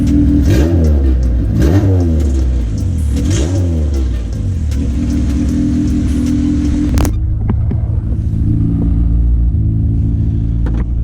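A 2000 Honda Civic Si engine revs and accelerates loudly up close after a transmission job, rising in waves, then settles into a steady lower rumble as it drives on.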